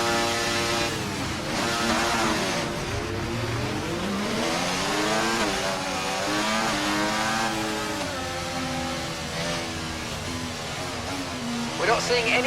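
Formula 1 car in F1 24 at a night race, engine revving through rising and falling pitch sweeps during a practice start, loud and steady with a voice talking over it.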